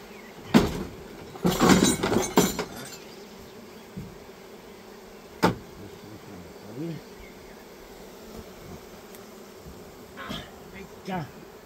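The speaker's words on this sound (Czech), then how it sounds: "Tak já teda držím roj včel." A swarm of honeybees being caught and held by hand, its buzzing drone steady underneath, with a few loud handling knocks and rustles near the start and brief murmured voices.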